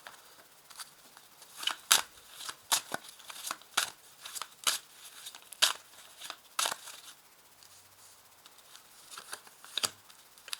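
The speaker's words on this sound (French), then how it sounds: "Je mets à chaque fois 3 cartes." Tarot cards handled and laid out on a table: a string of soft, sharp flicks and slaps at irregular intervals, close and fairly quiet, with no clear talk.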